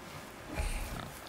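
A wild boar in the video game God of War gives a short, grunting squeal-like oink that rises in the middle of the clip over a soft game ambience.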